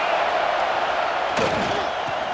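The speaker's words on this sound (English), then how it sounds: "This crowd ready to make its presence known." A stadium crowd in the College Football 26 video game roars in a steady, dense wash of cheering, with a sharp thump partway through.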